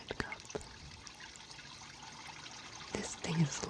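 Thin stream of water trickles and splashes into a hydroponic net cup, a faint steady pour with a few sharper drips and a brief louder splatter near the end, alone and close.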